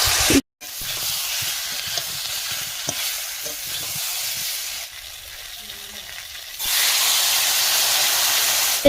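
Spices sizzling in oil in a pan for a potato and fish curry, a continuous close hissing fry with stirring scrapes, which pauses briefly near the start and grows louder toward the end.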